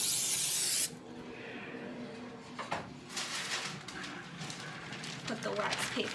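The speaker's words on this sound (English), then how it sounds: "Grease a 15 by 10 inch cookie sheet." Cooking spray hissing onto a 15 by 10 inch cookie sheet in one loud, close burst lasting under a second, followed by quieter rubbing and handling sounds with someone talking.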